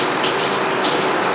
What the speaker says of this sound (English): Step 1 is wet hands with water